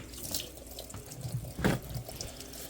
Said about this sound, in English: I'm gonna rinse off my hands here real quick.